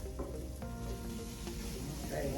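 Onions sizzle in a hot pan for an egg roll in a bowl, making a continuous loud crackling fry with faint stirring, close by and without talk.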